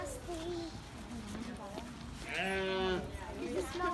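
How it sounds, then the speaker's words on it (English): Sheep bleat at a farm stop on a school field trip, several wavering cries mid-clip, near and clear, with children and adults chattering around them. "There's a sheep."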